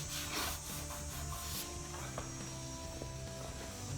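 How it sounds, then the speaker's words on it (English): Bondo body filler is stirred in its can for a 1947 Ford street rod repair, giving a soft scraping, rubbing rasp with small knocks of the stir stick, close and fairly quiet. "Okay, so getting the Bondo stirred up here."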